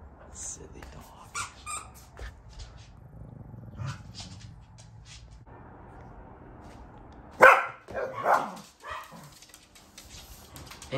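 A Corgi or Maltese dog gives a short burst of barks around the middle, fairly close and louder than the rest, with quieter yips and rustling and people talking through the surrounding stretch.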